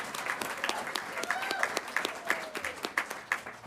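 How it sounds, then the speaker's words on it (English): Audience applause at a school board meeting for student contest winners, a full round of steady clapping from a crowd in a hall, sustained throughout. "If we could get one more round of applause for our student winners,"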